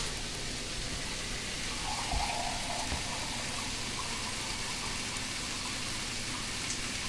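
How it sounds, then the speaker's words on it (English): Water is poured into a cooking pan as a steady, soft, continuous gushing hiss that runs evenly from start to finish without pause. "I'm going to pour about 2 cups of water in here"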